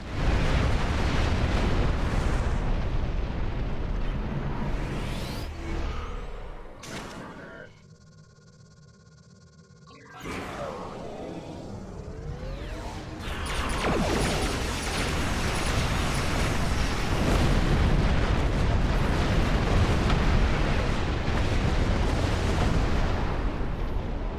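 Torpedo explosions in the space game Star Trek Online come as loud rumbling blasts that fill most of the clip, with a brief quieter gap in the middle before the booming resumes.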